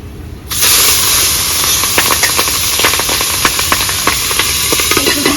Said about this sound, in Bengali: মাছের পেটা তেলে ছেড়ে দেবো